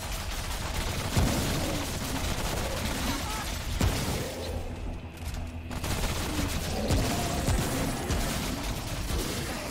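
Dense rattling gunfire and explosive thumps in the video game Remnant: From the Ashes, loud and near, nearly continuous with a brief lull midway, with people talking over the shooting.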